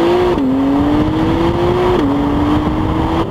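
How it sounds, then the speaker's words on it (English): A 2017 Acura NSX with a twin-turbocharged engine hums steadily from inside the cabin. Its engine tone rises gradually and dips twice, as if shifting gears under moderate acceleration. "The NSX has sound tube in the back of the engine that's right behind your ears."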